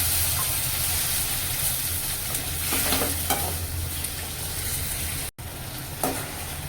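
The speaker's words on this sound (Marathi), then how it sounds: "आता यामध्ये मी हे टमाटर घालून घेते. टमाटर आपला पण छान" Tomatoes and onions cooking in oil in a pan for butter paneer, a loud continuous sizzle with a spoon stirring and scraping, a brief dropout near the end.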